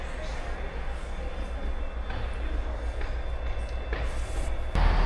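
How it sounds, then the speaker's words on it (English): A train rumbles at Carlisle railway station, a steady low roar of rolling stock under a faint high whine, with a brief louder surge near the end; a voice talks over it. "Carlisle station is one of my favourite stations"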